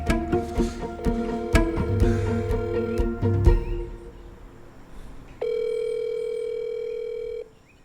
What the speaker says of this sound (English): every call, it just rings and rings